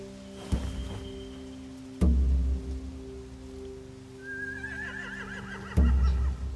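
A horse whinnies in a rising, wavering cry in the video game The Walking Dead: The Final Season, set among steady ambient background hum and a few sharp thumps.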